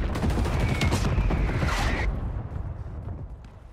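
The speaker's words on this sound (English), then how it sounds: "Missile strike hit a single target." A missile strike explosion in the Call of Duty video game: a loud, dense blast with crackling debris that rolls on for about two seconds, then drops to a low, fading rumble.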